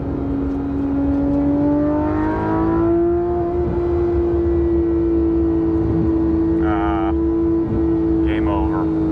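A Porsche 991.1 GT3 RS with an AWE exhaust drones loudly and steadily up close with a strong, even engine tone, climbing slightly as it pulls, while people talk over it.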